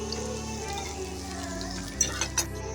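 Onions fry in a pan as a soft, even sizzle under steady tonal background sound, with a few light clinks of utensils near the end.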